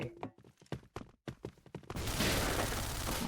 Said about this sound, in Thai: เสียงนะครับ เสียงสไน